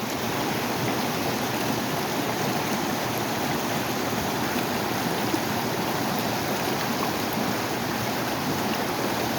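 Heavy water rushes steadily from a broken water main on Heath Street in Boston during an early morning emergency, a loud unbroken broadband roar close by with no talking.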